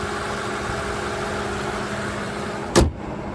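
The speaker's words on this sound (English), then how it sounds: "there's that 6-liter twin turbocharged V12." Mercedes-Maybach S650 with a 6-liter twin-turbo V12 idling, a low, even hum close by that holds steady throughout, interrupted near the end by one brief sharp click.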